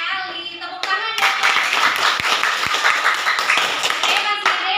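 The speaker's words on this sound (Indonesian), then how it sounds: "Oke, bagus sekali. Tepuk tangan ya." Classroom applause from students after a group presentation: a voice speaks briefly, then a dense burst of many hands clapping at close range, steady and fairly loud, tapering near the end with voices around it.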